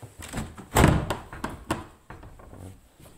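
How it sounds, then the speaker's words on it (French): An old door in an abandoned building is tried but stays stuck shut, giving a few dull thunks and rattles, one louder knock, fairly close with no talk. "On a une porte ici là."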